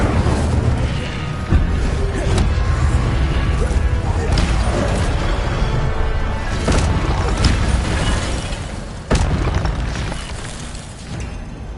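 Incendio fire spell cast in the Hogwarts Legacy video game: dense, loud whooshing bursts and crackling impacts over a busy game soundscape, with a sharp crash near the end.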